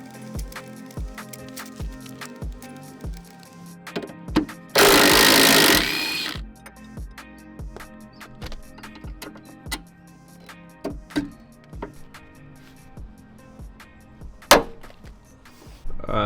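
Loosening sway bar link bolts on a GC8 Subaru WRX during fuel tank removal: a steady run of sharp ratchet clicks and metallic taps, with one short loud burst of a power tool midway, close up and without talk.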